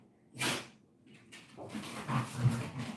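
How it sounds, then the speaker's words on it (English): Pet dogs moving about a room, quiet snorts, sniffs and shuffling thumps close by, brief and irregular with no barking. "If you hear background noises, it's most probably my dogs."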